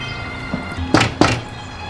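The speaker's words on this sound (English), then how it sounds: "Knock, knock." Two firm knocks on a door, spaced about a quarter second apart, in a scene from the TV drama The Crowded Room, standing out against a faint steady background hum.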